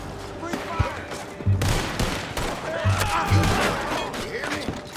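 Rapid exchanges of gunfire in Red Dead Redemption 2, sharp rifle and pistol cracks in bursts with booming reports, mixed with shouting voices and a faint music bed.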